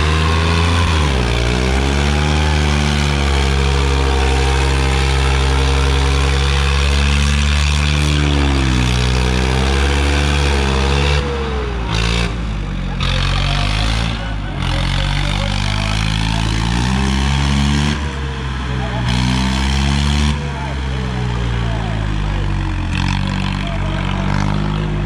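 A Swaraj 855 tractor engine roars loudly and continuously during a stunt at a kasanda harrow competition, its pitch rising and falling with repeated revving throughout, with no talk over it.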